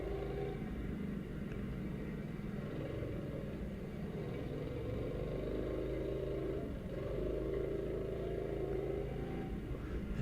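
Endurance race car engine idling with a low, steady putt-putt rumble, continuous and fairly even throughout with no voices.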